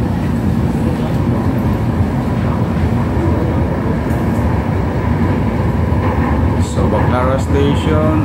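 Steady loud rumble and roar of a light rail train at a station on a Manila-area line, continuous low hum with some brief higher squeals toward the end.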